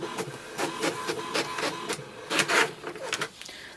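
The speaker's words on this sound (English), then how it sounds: "your printer may print a printer status report here" An HP Tango printer runs off a status report, giving a busy series of mechanical whirs, clicks and feed pulses close by in an irregular rhythm, with no voices.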